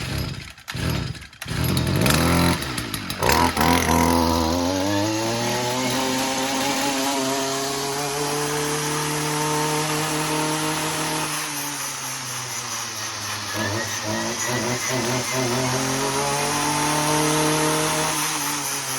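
A STIHL MS 211c chainsaw sputters through a few pulls, then starts and runs loud and close, its engine revving up and settling into a steady, rough idle that wavers in pitch.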